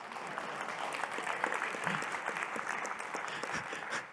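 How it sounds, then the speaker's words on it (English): An audience applauds with steady, dense clapping that stays even throughout, fairly distant and moderately quiet, with no talk over it. "Let's give her a round of applause."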